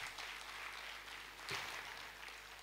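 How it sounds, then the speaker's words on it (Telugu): Audience applause at a stage event celebrating Patriji, with a steady wash of clapping from a crowd that swells briefly midway and then settles back. "గట్టిగా చప్పట్లు కొడదాం"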